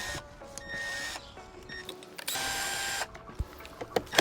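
Power driver with a Phillips bit backing bolts out of a Supra's AC and heater core HVAC unit, several short whirring bursts of the motor separated by brief pauses and light clicks.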